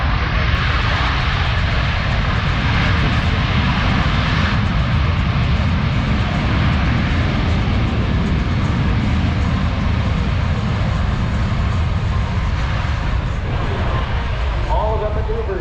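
A C-17 military transport touches down at an air show and its thrust reversers open, giving a loud, continuous broadband jet roar that holds steady throughout while an announcer's voice runs over the noise.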